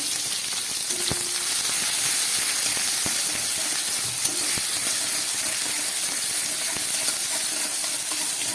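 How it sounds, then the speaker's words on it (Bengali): Chopped onions and dried chillies sizzle in hot oil in a pan, with a continuous close hiss and crackle and a few soft clinks of a utensil, no talk. "পেঁয়াজটাকে একটু ভেজে নিচ্ছি"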